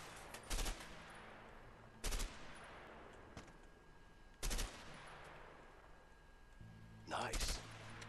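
An MP5 submachine gun firing in the game A Way Out, with four short loud bursts spaced a second or two apart over a quiet background.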